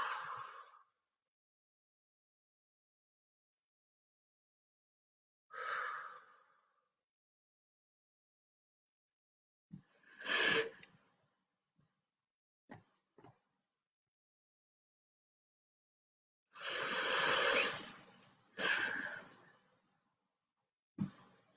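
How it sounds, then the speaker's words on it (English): A person breathes deeply and slowly during a calm guided session, with a few long, airy inhales and exhales spread across the stretch and separated by quiet gaps, close but soft. "So I'm just going to take a few more deep breaths."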